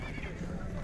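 A horse whinnies at a horse market in the Chui Sokuluk area, a short, high, wavering call lasting under a second, with voices and market bustle underneath.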